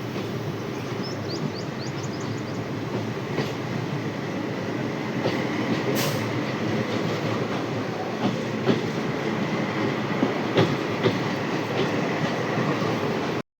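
Train pulling slowly into Vadal station at around 20 km/h on the Veraval–Bhavnagar line, a steady broadband rumble of rolling wagons with faint clicks of wheels over rail joints throughout, heard from on board.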